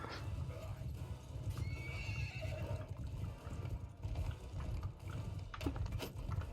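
Horses in the video game Mount & Blade gallop with rapid hoofbeats and let out neighs and whinnies during a battle, the hooves drumming steadily and loudly with no voices over them.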